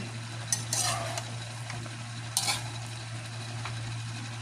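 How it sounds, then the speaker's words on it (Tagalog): A ladle scrapes and stirs food in a cooking pot during home cooking, two brief clattering strokes over a steady low stove hum, fairly faint and without talk. "Ihalo ko muna bago takpan."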